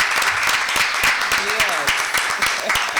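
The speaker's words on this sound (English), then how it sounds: "Would you all give us some applause as she comes?" Scattered clapping from an audience at a Fairmount Heights council meeting, loose and uneven, with a voice speaking faintly over it.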